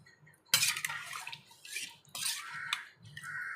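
A metal spoon stirs chicken curry in a pot, making close, repeated clanks and scrapes against the pot in uneven strokes, with a wet sloshing underneath.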